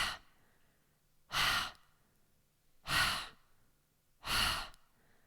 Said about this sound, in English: Just keep focusing on the exhale, belly in.